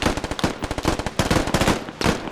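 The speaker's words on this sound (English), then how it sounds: "Keep laying out suppressive fire." Rapid bursts of automatic gunfire as suppressive fire in the military shooter video game Squad, loud, close and continuous, with repeated rattling shots and no talk.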